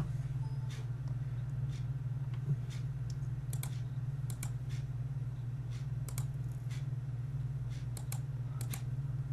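Fingers tap a computer keyboard in sparse, irregular clicks and short bursts, faint and close, over a steady low electrical hum with no voices.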